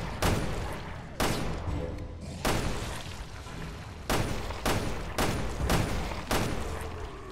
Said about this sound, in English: I'm literally shooting it